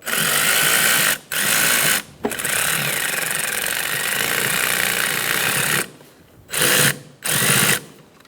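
A power driver snugging down the intake boot clamp onto the throttle body of a 2012-2020 Chevrolet Sonic 1.8L L4, a long buzzing whir followed by several shorter bursts, close and loud.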